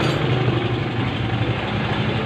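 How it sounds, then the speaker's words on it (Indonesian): A carburetted Honda Vario scooter engine idles steadily just after starting, a close, even low hum with a slight rough pulse and no speech over it. "Motornya hidup."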